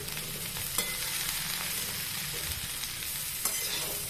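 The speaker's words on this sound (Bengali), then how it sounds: "পটলগুলো হালকা হালকা করে সব ভাজতে হবে, লেগে না যায় সেটাও দেখতে হবে।" Pointed gourd frying lightly in a wok sets off a continuous dense sizzle close by, with a couple of brief clinks of a spatula against the metal.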